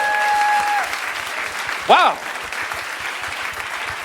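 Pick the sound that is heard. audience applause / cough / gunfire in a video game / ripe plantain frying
audience applause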